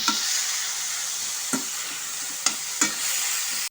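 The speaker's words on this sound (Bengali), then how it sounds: "এখন আমি সমস্ত কিছুর সাথে ভালো মতো করে মোচাটাকে মিশিয়ে নেব।" Banana flower mixture with potato sizzles steadily in a hot frying pan, with a few sharp scrapes of a spoon stirring through it, close and continuous.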